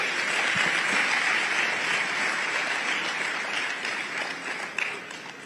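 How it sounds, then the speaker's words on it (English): Sustained applause from a large audience at a public talk, dense and even, holding steady for several seconds before easing slightly toward the end, with no voices over it. "I think that calls for a big round of applause."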